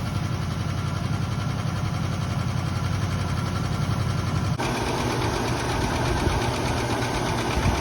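A 1969 Buick Skylark V8, a barn find off the road for decades, runs steadily with a rapid mechanical clacking tick over its low idle; the tone shifts partway through with no talk.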